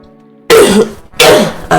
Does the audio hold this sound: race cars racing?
no